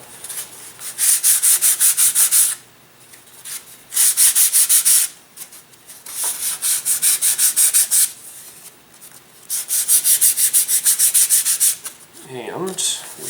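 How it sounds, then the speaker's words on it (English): Sandpaper rubs back and forth on a wooden model rocket-glider wing in steady, rapid strokes, coming in several long bursts separated by short pauses. "we're done sanding the wing"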